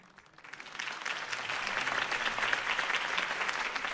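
Crowd applause after a campaign speech in the Batman Telltale video game, a dense, steady clapping that swells within the first half second and holds loud and even to the end, with no voices over it.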